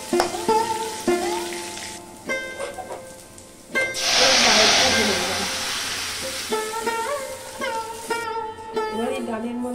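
Dried red chillies dropped into hot oil already tempered with cumin and ginger paste, while dalia khichdi is being made, burst into a loud hissing sizzle that slowly settles. Someone talks before and after the sizzle.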